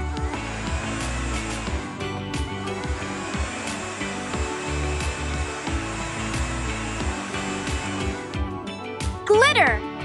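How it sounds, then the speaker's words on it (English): A small toy hair dryer motor whirs continuously with a buzzing, toy-like hum, then cuts off near the end amid brief chirpy tones. "The hair dryer."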